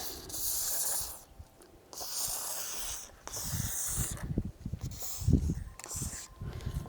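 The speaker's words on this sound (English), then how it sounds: "Let's spray it down." Several bursts of silicone spray hiss close by, each lasting about a second, separated by short pauses and faint handling sounds.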